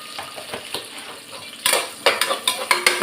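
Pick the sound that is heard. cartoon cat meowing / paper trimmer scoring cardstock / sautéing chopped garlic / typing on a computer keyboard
sautéing chopped garlic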